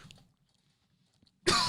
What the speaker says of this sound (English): That's how you cough away from the mic.